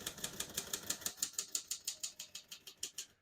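Crisp, evenly spaced keystrokes on a 1957 Royal Quiet De Luxe portable typewriter, about five strikes per second, close and clear with no voices.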